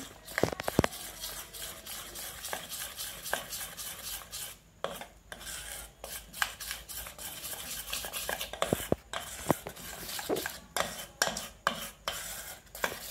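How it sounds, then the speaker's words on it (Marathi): A spoon stirring buttermilk mixture in a bowl for Konkani surali vadi, quiet repeated scraping and clinking strokes in an irregular rhythm, close and soft, with no voices. "हे ताक आहे, एवढं लागेल। चमच्यानं एकत्रित करून घेऊया आपण।"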